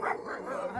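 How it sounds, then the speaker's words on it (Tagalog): A dog barks and yips a few times in quick bursts, fairly close, with a faint voice in the background. "May aso pala"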